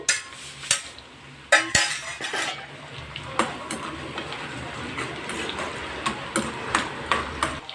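Cut green chillies frying in a pan for fish curry, with a spoon clinking and scraping against the metal in steady, repeated close taps over a low sizzle.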